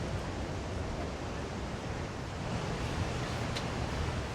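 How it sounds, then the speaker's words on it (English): Surf crashing against rocks along the Bondi coastal walk in Sydney, a steady broadband wash of breaking waves with some wind, continuous and fairly even throughout. "Rocks on one side, waves crashing on another side."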